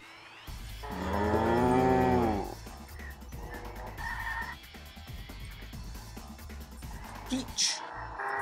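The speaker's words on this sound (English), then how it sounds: "Cow." Cow moo vehicle horn in the Roblox Jailbreak video game, a long, loud bovine bellow swelling and fading over about two seconds, followed by lower game and engine noise.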